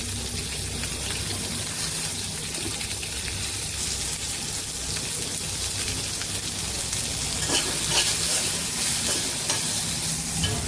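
Onion, green chili and curry leaves fry in hot oil with roasted chana dal and cumin, giving a steady, close crackling sizzle throughout with occasional stirring sounds.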